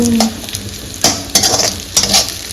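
Potatoes frying in a home kitchen pan, with a steady sizzle and a few sharp scrapes and clinks of a utensil stirring them, loud and close.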